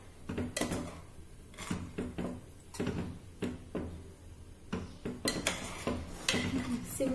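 A spoon scrapes and clinks around a pan as vermicelli is stirred into carrot and milk payasam, with a series of irregular metallic taps and knocks, fairly quiet and close.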